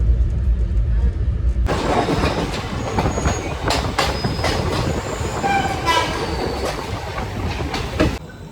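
A passenger train running on rails into Rampurhat station in India gives a loud, continuous rumble with rhythmic wheel clatter and horn-like tones, while a person talks over it.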